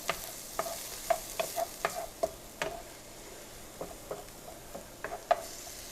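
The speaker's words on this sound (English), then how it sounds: "we want to saute the garlic up." Garlic sautéing in a pan while homemade baked ziti is prepared, with a soft steady sizzle under repeated close clicks and scrapes of a utensil stirring.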